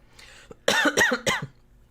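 A few sharp coughs sound close up, quick and harsh, after a faint breathy moment.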